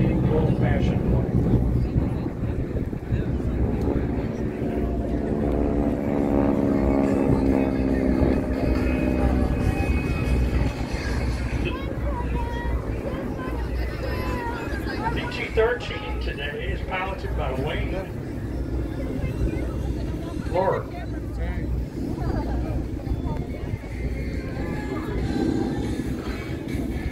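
Beechcraft T-34 propeller trainer at a Commemorative Air Force airshow in Corsicana, a steady droning engine roar throughout with a passing pitch sweep, loud and continuous under a commentator's voice.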